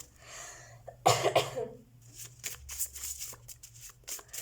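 A single harsh cough close by, followed by quiet rustling and shuffling sounds.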